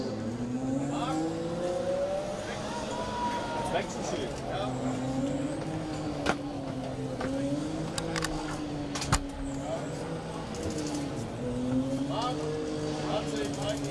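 A Formula Student race car runs the skid pad at a competition, its engine note rising and falling through sustained tonal whine across the lap, with commentator speech over it throughout.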